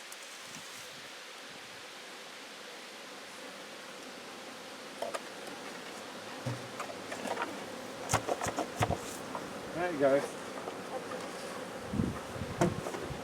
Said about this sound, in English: A lot of bees in the supers at the moment.